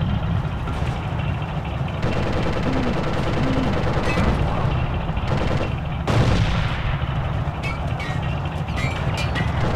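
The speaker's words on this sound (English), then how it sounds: "What's shooting us?" Continuous World War II battle gunfire in the Forgotten Hope 2 game at the Battle of Keren, loud machine-gun bursts and heavier booms layered over a rumbling engine drone, with no talking.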